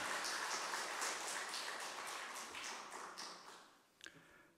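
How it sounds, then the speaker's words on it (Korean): A church congregation claps together in a dense, fairly faint round of applause that steadily fades and ends with a last few scattered claps. "하나님께 영광의 박수를 드리겠습니다"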